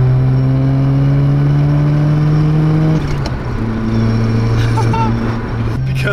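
Freshly rebuilt rotary engine of a Mazda RX-7 FC revving below 4,000 rpm while driving, a loud buzzing drone that rises, dips briefly and climbs again from close by.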